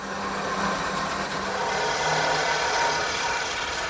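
A lathe duplicator cuts a wooden table leg, producing a steady, loud grinding whir of the spinning wood against the cutter, unbroken throughout.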